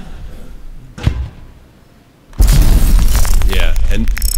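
A Grenadier's explosive blast in XCOM 2 tears through floors, erupting as a sudden loud boom that gives way to a sustained rumble of collapsing debris, following an earlier single thud.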